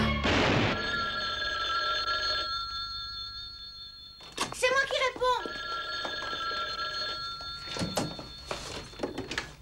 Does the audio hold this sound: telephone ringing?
yes